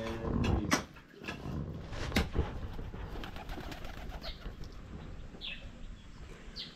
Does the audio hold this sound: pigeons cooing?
yes